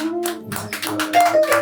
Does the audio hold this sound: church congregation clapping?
yes